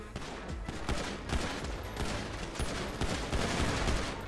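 Rapid bursts of gunfire in GTA 5, sharp repeated shots in dense clusters with a steady rattling rhythm throughout, fairly close and loud, with no voices over it.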